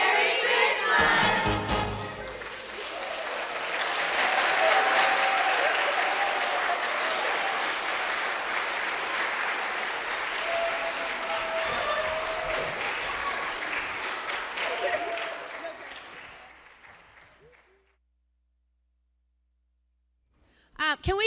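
Warm, sustained audience applause at a Christian school Christmas concert, swelling quickly and holding for about fifteen seconds with scattered cheers and voices, then tapering off into silence before a speaker begins.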